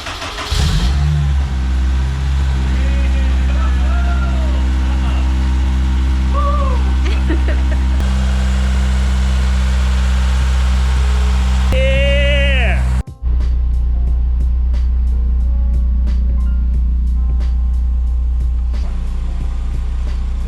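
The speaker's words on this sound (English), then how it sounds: "We are going to go ahead and crank the motor over" A Honda S2000 fitted with a Honda F24 stroker engine cranks over, catches and settles into a loud, steady running rumble close by, with a brief cut partway through before it resumes.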